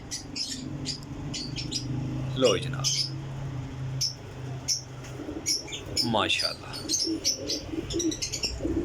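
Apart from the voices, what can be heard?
pigeons cooing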